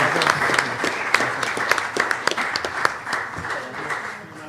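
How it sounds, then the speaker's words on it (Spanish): An audience at a molecular genealogy conference applauds a doctor, a modest group of distinct claps with audible individual hand strikes, fairly close, tapering off toward the end, with some voices under it. "Un aplauso para el doctor Ricardo Cerda Flores"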